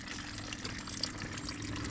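Water pours steadily onto the ground to rinse away spilled gasoline, a continuous close splashing wash with no talk.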